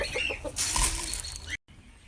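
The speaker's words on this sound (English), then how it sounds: "We're gonna go feed the roosters." Chickens cluck and squawk nearby amid a brief flurry of flapping and rustling, fairly faint, ending in a sudden cut.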